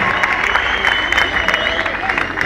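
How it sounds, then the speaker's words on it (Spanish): Crowd applause and cheering at an outdoor concert during the 2012 Fiesta del Asado con Cuero, a dense, steady roar of clapping with voices mixed in throughout. "Un aplauso para Viales, vamos, a ustedes mismos."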